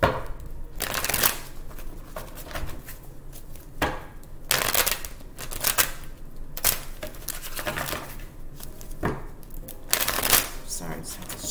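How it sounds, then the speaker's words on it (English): Tarot cards are shuffled by hand in repeated crisp riffles and bursts of snapping and flicking, close and loud, with a few pauses between bursts. "Sorry, just have to shuffle this real good."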